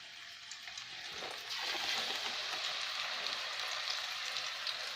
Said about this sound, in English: I'm gonna fry it.